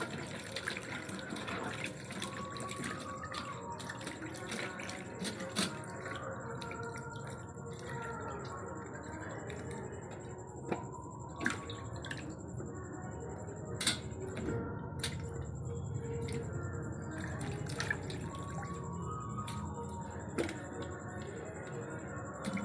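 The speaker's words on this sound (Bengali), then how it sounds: "এই আলু আর বেগুন পটলটা এইগুলো সব ধুয়ে নিতে হবে আরেকবার করে" Cut potatoes, eggplant and pointed gourd being washed in water for a festival meal, with steady sloshing, splashing and trickling, plus a few sharp clinks of a metal plate, continuous and close throughout.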